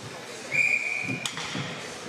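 A referee's whistle blows once at a high school ice hockey game, a short sharp tone heard at moderate distance over arena ambience.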